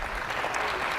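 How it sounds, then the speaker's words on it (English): A conference audience breaks into applause, a brief dense burst of clapping that fills the whole moment at steady loudness. "that's the only thing everybody claps for when I talk"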